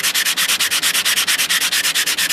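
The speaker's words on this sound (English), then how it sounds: "You take your sponge or your sandpaper and you just put your ring down and you just sand that" Sandpaper scrubbed against the inside of a coin ring in fast, even strokes, a close, loud, rhythmic rasping with about eight strokes per second and no voices.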